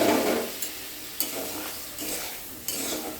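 A little water hits a stir-fry already sizzling in a pan, raising a loud, close hiss, with stirring scrapes and a few sharp clinks of the utensil against the pan.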